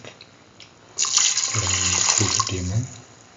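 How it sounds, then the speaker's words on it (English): Coconut milk pours into a pot with a sudden splashing rush that settles into a steady, gurgling stream, close and fairly loud before tapering off. "Pour in the rest of the coconut milk,"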